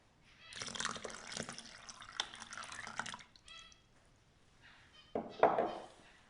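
Milk poured into a well of flour and eggs for handmade pasta, a soft close liquid pour lasting a few seconds, then a brief louder splash and clunk, with no talking.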